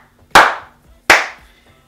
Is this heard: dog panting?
no